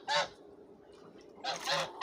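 Two loud goose honks, one short and one drawn out, separated by a brief quiet gap, close by.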